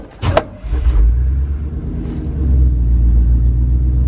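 A 1987 Chevy C10 truck, abandoned for over ten years, cranks briefly with a sharp click, then its engine catches and settles into a loud, deep, steady idle rumble heard up close.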